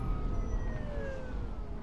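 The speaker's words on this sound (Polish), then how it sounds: "sami słyszeliście, że teraz te radiowozy strasznie cicho były" Police car siren in The Last of Us, a wailing tone sweeping steadily over a dense rumbling backdrop, fairly loud and continuous with no talk.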